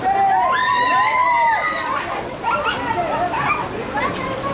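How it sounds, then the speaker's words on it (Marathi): A crowd of boys cheers and shouts at a rain-soaked village Dahi Handi festival in Harigram, loud overlapping whoops and yells rising and falling, with splashing water and nearby talking mixed in. "पोरांचा फुल जल्लोष"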